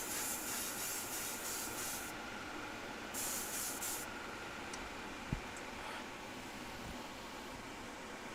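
Airbrush hissing out a light dusting of Timbertech paint, with two loud bursts of fine spray near the mic followed by a steady, softer background hiss.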